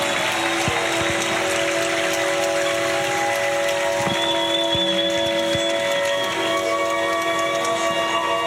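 A large convention crowd at the 2024 Republican National Convention in Milwaukee roars and applauds as Melania Trump appears, a loud, dense wash of cheering and clapping with sustained tones mixed in.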